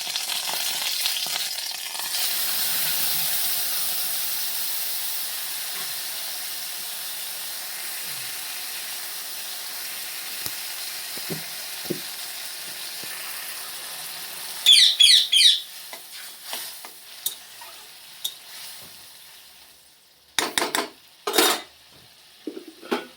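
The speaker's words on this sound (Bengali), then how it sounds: "সরষের যে পেস্টটা করা ছিল, এই পেস্টটা আমি দিয়ে দেবো।" Chicken drumsticks sizzling loudly in a frying pan as mustard paste goes in, a steady hiss broken later by spoon scrapes and clinks of utensils against the pan.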